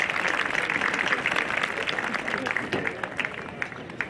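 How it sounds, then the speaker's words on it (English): Applause from a commencement audience standing for national elected officials, a steady dense wash of clapping that holds throughout at moderate loudness, with some voices mixed in. "So give them a round of applause."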